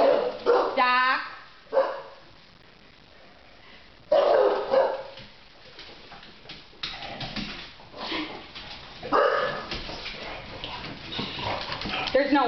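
A dog barks in several sharp, loud bursts, with a whimpering yip early on, separated by quieter gaps, while people talk nearby.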